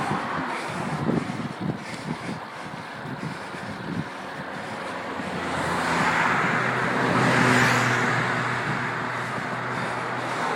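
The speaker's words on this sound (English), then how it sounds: "Cars make a unique sound." Car approaching on a road and swelling into a louder close pass with a rushing roar, heard alone over wind noise.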